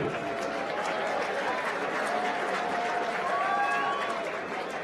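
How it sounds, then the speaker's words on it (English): A crowd at a cage fight applauds and cheers for the fighters, a dense, steady wash of clapping and voices filling the arena for several seconds. "have a round of applause for these fighters"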